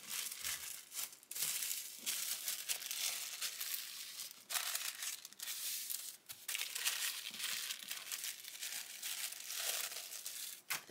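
Thin paper crinkles steadily while a parcel is wrapped for shipping, with close, continuous rustling and a few brief pauses and louder crumples throughout.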